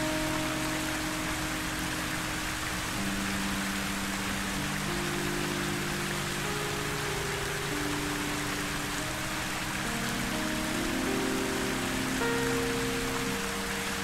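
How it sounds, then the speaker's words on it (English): Steady rain hisses down evenly in a fantasy romance visual novel game, a dense wash of drops that goes on throughout, with low sustained tones underneath. "The rain begins to fall, adding to the whimsy of the moment"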